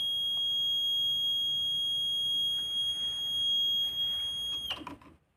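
A homemade STEM flood detector alarm sounding a continuous high-pitched electronic buzz, steady and loud for several seconds before cutting off abruptly.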